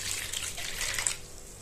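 Lukewarm water pours steadily into a bowl for a sourdough Lagana flatbread dough, a close, continuous splashing trickle with no talking.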